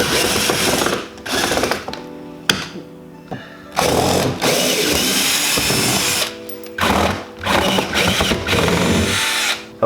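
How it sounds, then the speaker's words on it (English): Power drill spinning out screws from underneath a car's aftermarket side skirts, loud whirring bursts that start and stop repeatedly, with brief pauses between runs and no talking. "I'm gonna get up under here, remove these screws from the bottom"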